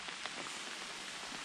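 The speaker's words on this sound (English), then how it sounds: "In the rain. In the quite heavy rain." Heavy rain falls steadily outdoors on a footpath, a dense, even hiss of drops pattering on surfaces, moderately loud with no talk over it.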